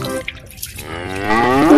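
A water buffalo lows with a rising, drawn-out moo that swells louder toward the end, heard alone and close among farm animals in a muddy setting.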